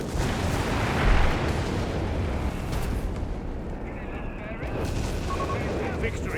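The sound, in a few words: howitzer artillery fire in video game Company of Heroes 3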